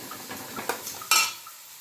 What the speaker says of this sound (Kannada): ಈರುಳ್ಳಿನ ಚೆನ್ನಾಗಿ ಫ್ರೈ ಮಾಡೋಣ